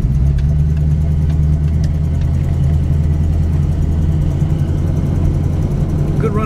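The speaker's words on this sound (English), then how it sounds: "Out test driving a 1971 Plymouth Roadrunner 440 six-pack V-code car in Michigan today" A 1971 Plymouth Roadrunner with a 440 six-pack V-code engine runs steadily, a loud, close, deep rumble holding an even drone throughout with no talking.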